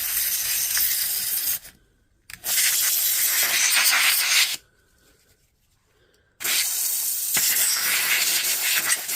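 Compressed air from an air compressor nozzle blasts in three loud hissing bursts separated by short silences while servicing a Hilti cordless drill chuck, with no talking.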